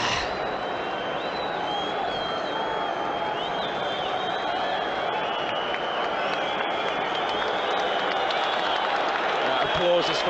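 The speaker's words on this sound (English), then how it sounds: "Applause is for Botman, who is nearing the Newcastle bench and the tunnel area" Stadium crowd at a Newcastle United versus Liverpool Premier League match applauding a departing player, a distant, steady roar of clapping and crowd noise heard beneath a radio commentator's continuous talk.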